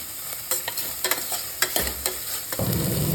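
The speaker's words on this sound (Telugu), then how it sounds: "చూడండి, ఎక్కువ వేయించుకోకూడదు, కొంచెం 1 to 2 మినిట్స్ అంతే వేయించుకోవాలి" Food fries in oil in a pan while being stirred, producing a close, crackling sizzle with repeated quick spatula scrapes and clicks, and a louder burst of sizzle near the end. No one speaks.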